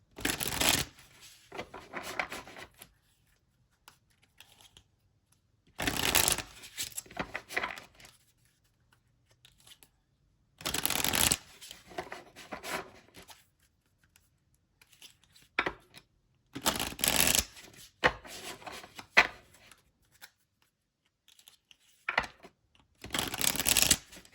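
Self-love chakra cards being shuffled by hand in several separate bursts of quick riffling and flicking, spread across a quiet room with pauses between each round.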